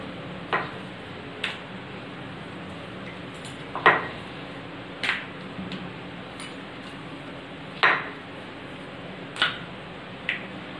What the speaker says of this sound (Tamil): இப்போ சப்பாத்தி கட்டையை வச்சு நல்லா தேய்ச்சி விட்டுக்கோங்க.